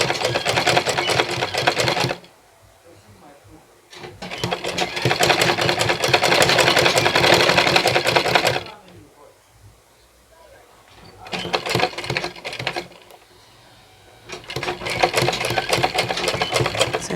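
A sewing machine stitches down a single welt pocket in loud, close bursts of rapid mechanical whirring, stopping and starting three times with brief quiet pauses between runs.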